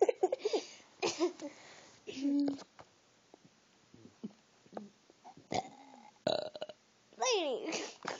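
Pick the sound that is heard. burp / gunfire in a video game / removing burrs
burp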